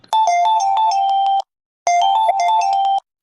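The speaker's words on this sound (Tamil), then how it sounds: "என் ஃப்ரெண்டு தான் ஃபோன் பண்ணுறான்" A phone ringtone for an incoming call plays two loud, close bursts of a bright repeating electronic melody, each about 1.3 seconds long, separated by a short silence.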